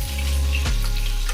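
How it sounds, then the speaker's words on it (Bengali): Katla fish pieces frying in hot oil for a Bengali fish curry, a loud, steady sizzle close up with a brief disturbance partway through, no talking. "মাছগুলো আমার ভাজা হয়ে গেছে।"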